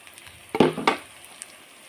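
Turmeric, panch phoron and garam masala fry in a pan while being stirred, giving a short burst of sizzling and scraping near the middle, followed by a brief scrape and then a quiet kitchen background.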